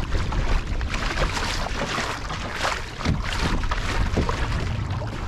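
Gusty wind buffeting a sailing boat on a busy lake, a rough, rushing roar with swelling and dipping gusts and water wash underneath, close and fairly loud throughout.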